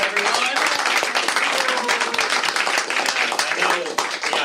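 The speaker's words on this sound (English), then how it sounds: "Big applause, everyone." A studio audience breaks into sustained applause, dense continuous clapping with a few voices and cheers mixed in, loud and even throughout.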